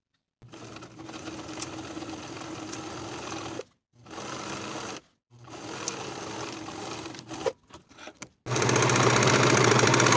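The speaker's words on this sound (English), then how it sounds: "Sew with a 5/8 inch seam allowance, finish the raw edges and press the seam down toward the bottom of the pants." Sewing machine stitching a 5/8 inch pants seam in several runs of varying length separated by pauses, with a louder, faster final burst; close and clear, no talking.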